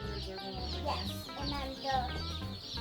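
Baby chicks, black ones among them, being moved from a holder into a backyard setup, peeping continuously and close while people talk over them.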